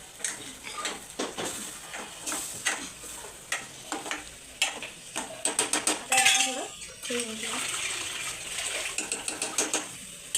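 A metal lid goes onto a cooking pan amid a run of clinking and tapping, with one ringing metallic scrape and clatter as it settles, then quieter knocks.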